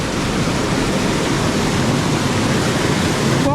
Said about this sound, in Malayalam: ഇവിടെ നിൽക്കുമ്പോൾ ഭയങ്കര ഒരു പേടിയാവട്ടോ, ആ വെള്ളത്തിൻ്റെ സൗണ്ട്.